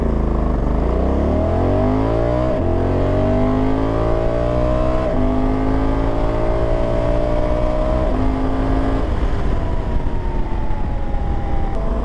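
A Honda Africa Twin 1100 adventure motorcycle accelerates hard, its engine rising in pitch through several gear changes, loud and close for about twelve seconds with no talking.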